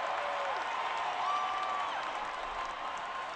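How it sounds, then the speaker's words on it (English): Steady crowd of Yankee fans cheering and applauding in a simulated 1960 Red Sox versus Yankees baseball game in OOTP18, a dense, continuous wash of crowd noise that stays level throughout. "the Yankee fans who are here, they cheer"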